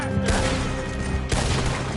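Rapid video game gunfire crackles in a dense, loud burst that eases slightly and then resumes at full force midway through, with no gaps of quiet.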